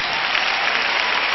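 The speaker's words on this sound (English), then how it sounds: "Clap again while I catch my breath" A church congregation claps again at a 1990 revival meeting, a loud, thick, continuous burst of applause from a large crowd filling the short stretch alone.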